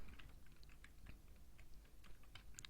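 Quiet, rapid keystrokes on a computer keyboard, typed in short irregular bursts with no talking.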